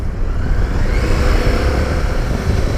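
A 2017 KTM 1090 Adventure twin-cylinder motorcycle accelerating under throttle, a loud, close, rough engine roar sustained without pause.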